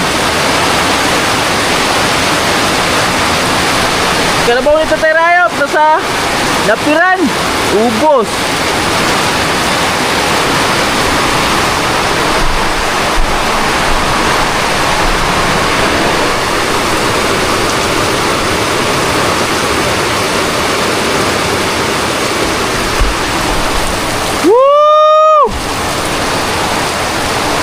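Heavy morning rain pours down steadily on a farm, a dense, loud wash of noise that lasts the whole stretch, with brief bursts of someone talking near the start and again near the end.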